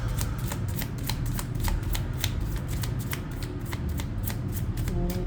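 Tarot cards are shuffled in a steady run of crisp, rapid riffling flicks, close and fairly quiet, with no talking.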